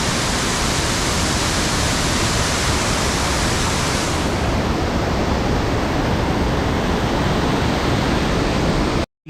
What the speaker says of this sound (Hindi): वाटरफॉल फिर से।